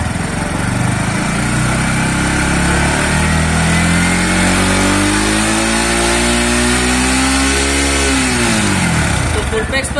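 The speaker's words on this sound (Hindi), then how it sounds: "तो रेव करिए थोड़ा।" A Bajaj Pulsar NS160 motorcycle engine is held near and loud while it revs, the pitch climbing gradually and then dropping back toward idle at the end, with a steady mechanical drone throughout.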